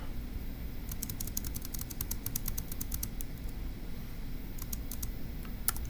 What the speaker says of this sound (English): And so let's type that up.